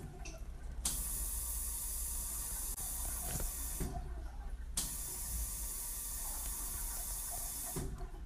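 Water runs steadily from a sink tap in a continuous broadband hiss, with a few brief gaps and surges as the flow or the hands under it shift.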